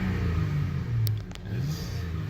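A 2005 Honda Odyssey engine with multiple fault codes revs steadily at idle, a continuous low rumble rising and falling slightly over a couple of seconds, heard alone at moderate level.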